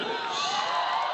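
Fans in the stands cheering for their team at a junior national volleyball gold medal match, a brief, steady wash of crowd shouting and whooping at moderate distance.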